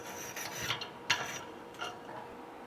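Abrasive rasping and rubbing as the weld area is cleaned after a tack weld on a groove joint, with a few short scrubbing bursts of uneven rhythm, moderately quiet and close, with no talking.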